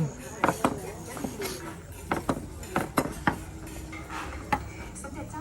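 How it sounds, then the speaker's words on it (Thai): A knife taps and clacks against a cutting board in an irregular rhythm while slicing duck for larb, close by, with faint kitchen clatter around it. "ก็หั่นไปเรื่อยๆ นะครับ จนกว่าจะหมด"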